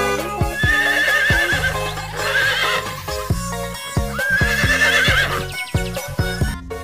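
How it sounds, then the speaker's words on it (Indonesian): Several horses whinny and neigh in high, wavering calls, with hooves clip-clopping in a quick uneven rhythm close by and a faint jingle. "Wah, ini kuda."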